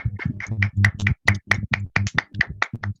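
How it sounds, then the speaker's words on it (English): A few people at an online poetry reading clap their hands, sharp uneven claps in a quick irregular patter close to the microphone, lasting a few seconds. "give you another round of applause in thanks for your wonderful reading"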